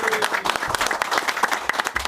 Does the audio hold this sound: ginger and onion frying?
no